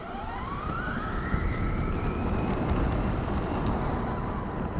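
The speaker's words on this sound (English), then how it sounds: "You hear the engine maxing out." A Traxxas RC car's motor screams at full speed, a loud, sustained high-pitched whine that rises in pitch and carries over steady wind and road rumble from a car-mounted camera, with no talk.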